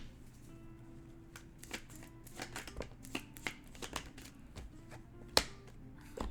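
Tarot cards shuffled and drawn for a pick-a-card reading, a run of soft crisp card flicks and slaps with a sharper snap near the end, close and quiet with no talking.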